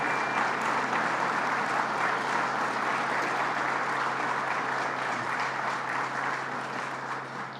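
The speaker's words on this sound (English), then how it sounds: "Let's give them a round of applause again." Audience applause at a news conference on Alcoa jobs staying in Massena, a steady, dense round of clapping that fills the whole stretch and eases off slightly near the end, with no talk over it.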